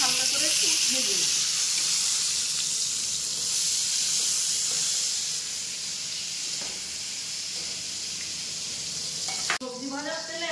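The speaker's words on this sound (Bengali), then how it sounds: "টমেটোটাও আমি এখানে হালকা করে একটু ভেজে নিই।" Tomato sizzling in hot oil in a pan, with a steady broadband crackle through most of the clip and a voice speaking briefly near the start and again at the very end.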